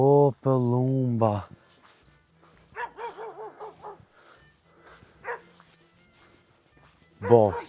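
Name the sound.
dog barking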